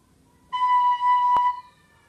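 A single sustained note on a Waldorf flute, fingered with the thumb and index finger, rings clear and steady for about a second with a soft breathy attack and a brief click partway through, heard alone in a quiet room.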